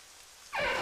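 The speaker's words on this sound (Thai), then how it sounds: "แถมฝนก็ยังตกอยู่ซะด้วยสิ" Rain falls as a quiet hiss that swells suddenly halfway through into a denser, brighter patter, with no voices present.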